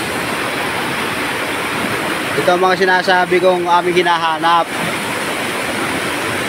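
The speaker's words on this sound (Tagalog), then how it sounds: "Ang taas ng talon." Steady broadband rush of a tall mountain waterfall, loud and continuous throughout, with someone talking over it near the middle.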